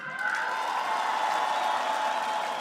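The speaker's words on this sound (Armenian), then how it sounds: "Եկեք մեկ անգամ ևս ուժգին ծափերով ցույց տանք, թե ինչքան ենք սիրում իրար" A large crowd at a political rally in Armenia claps strongly and steadily, a dense wash of applause that holds at an even loudness throughout, close and continuous with no talk over it.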